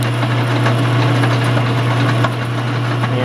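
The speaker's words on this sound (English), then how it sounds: "What I've done here is I'm just using my milling machine." A milling machine cuts down a steel shaft for a John Deere 47 snow blower lift cylinder, a loud, continuous low motor hum with dense gritty cutting noise and faint rhythmic ticks throughout.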